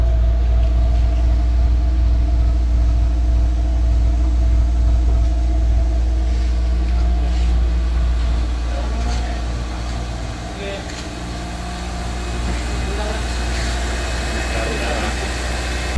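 An older Toyota Corolla engine held at 2000 RPM after Blackcore tuning gives a loud, steady low-pitched drone with a constant hum, dipping slightly midway before resuming, running continuously throughout.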